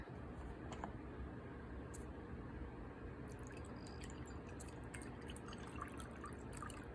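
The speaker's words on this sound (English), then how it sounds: "After I go and pour my cup of tea" Water runs from an automatic tea kettle holding about half a liter, a steady low trickling stream that fills the whole stretch at a constant, fairly faint level, with light drips and no voices.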